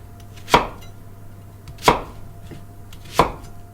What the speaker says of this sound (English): So I peeled my onions and the garlic. Now I'm gonna cut them just like this big.